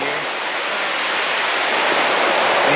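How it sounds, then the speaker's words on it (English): A big waterfall pours down near the Crystal Mill at Schofield Pass, Colorado, making a loud, continuous hissing roar of falling water that stays steady and close for the whole stretch, with no voices standing out. "Big waterfall coming down in here."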